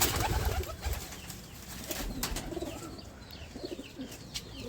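Andhra pigeons, including a female with a fully banded tail, coo in a loft amid soft background noise, with a few brief chirps and faint shuffling mixed in.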